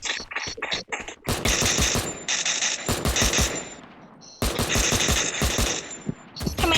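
Automatic weapons in the mobile shooter Free Fire, rapid loud bursts of synthetic gunfire with sharp ringing tails and brief gaps, played back close and dense without speech.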